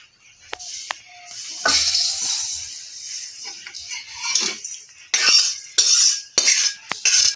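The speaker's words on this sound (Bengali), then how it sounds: "চাল আর ডালটা একটু সুন্দর করে নাড়বো।" Rice and lentils being stirred in a pot with a utensil, giving scraping, clinking strokes over a light sizzle in bursts, with several sharp metallic knocks against the pot near the end.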